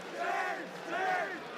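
Esports arena crowd at a Counter-Strike grand final roars and cheers in two swelling waves, loud and sustained, with shouting voices blending into a dense wall of noise.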